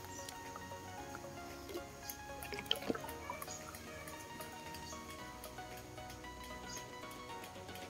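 Water drips through tissue in a homemade plant drip system filled with lettuce nutrient solution, giving faint, soft, irregular drips close by in a quiet room.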